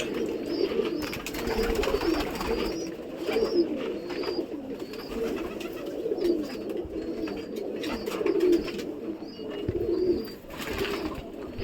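A loft of champion competition pigeons coos steadily up close, soft throaty calls overlapping in a continuous murmur with occasional higher chirps above.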